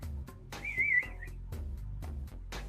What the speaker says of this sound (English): you're hearing Lazuli up there whistling and stuff like that